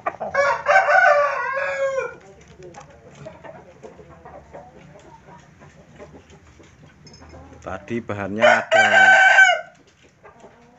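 Chickens clucking and crowing loudly in two bursts, one at the start and another near the end, with quieter farmyard sounds between and a voice speaking.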